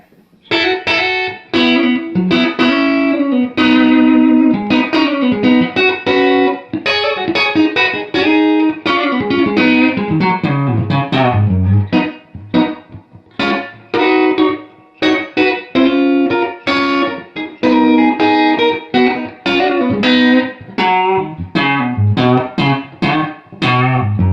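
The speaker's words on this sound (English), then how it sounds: "I'll kill the echo and the reverb, let you hear the dry amp." A clean electric guitar played through an amp with no echo or reverb, steady strummed chords and picked phrases continuing for a long stretch, no talking.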